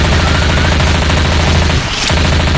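Loud, rapid automatic gunfire from Left 4 Dead 2 rattles almost without pause in a zombie fight, with a brief break near the end before the shooting resumes.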